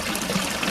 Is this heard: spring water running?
yes